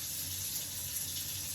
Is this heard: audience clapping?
no